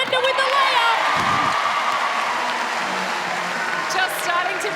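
A netball arena crowd at a Suncorp Super Netball match cheers and applauds after a layup, with loud sustained roaring, clapping and whoops and a few high shouts near the end.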